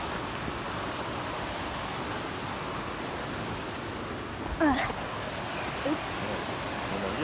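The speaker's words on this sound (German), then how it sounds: "fließt hier einfach runter ein Wasserfall" A waterfall in a Swiss gorge gives a steady, even rush of water noise, fairly faint and continuous, with a brief voice-like sound breaking through near the end.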